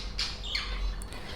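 Pet finches in a cage give a few short, sharp chirps and squawks close by, scattered over a low background hum.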